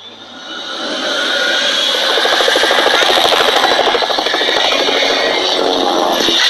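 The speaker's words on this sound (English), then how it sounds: "Firefighting helicopter." In a kids' car-building video game, a firefighting helicopter sounds as a loud, steady whirring rotor drone that swells in during the first second and then holds constant.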